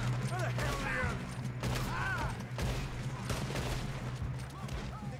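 Gunfire in a Red Dead Redemption 2 train robbery shootout: repeated shots and mechanical gun clatter run steadily throughout, mixed with game music and background noise.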